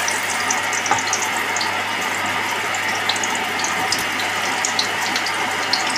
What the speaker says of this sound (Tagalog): Natin na pong igisa ang sibuyas.